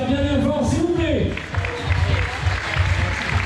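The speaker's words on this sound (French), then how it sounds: "Merci d'applaudir bien fort, s'il vous plaît." A crowd at a midnight trail race bursts into dense, steady clapping and cheering that swells after a brief tonal sound fades, with voices mixed in the noise.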